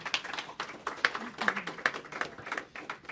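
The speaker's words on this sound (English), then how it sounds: "I would like you to give an applause as well for Alexandra." A small audience claps in a quiet, rapid patter of separate hand claps, fairly distant and steady throughout.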